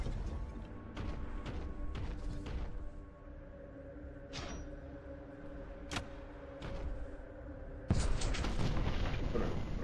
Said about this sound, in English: I fired that cannon